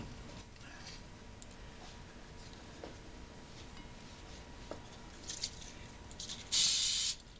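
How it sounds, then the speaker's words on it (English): A short hiss of cooking spray near the end, brief and close, after a stretch of quiet background noise, while enchiladas are assembled. "Just a light spray."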